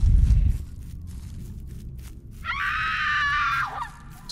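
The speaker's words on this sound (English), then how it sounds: "So much screaming happening." Screaming in an indie horror video game, a realism horror title: after a low rumble and scattered thuds, a loud, wavering high-pitched scream rises and holds for about a second before trailing off, with no talk over it.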